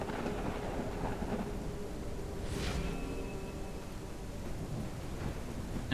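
Steady rain and rolling thunder fill a stormy scene in the video game DragonHold, a dense continuous roar with a brief brighter crack midway and no voices.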